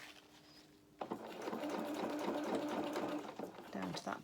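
Close, steady whirr of a sewing machine stitching a row on a small doll's playsuit, starting abruptly after a second of quiet and running continuously to the end.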